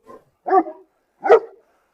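A large shepherd dog barks three times, loud and close, one short yip followed by two full barks spaced about a second apart against a silent background.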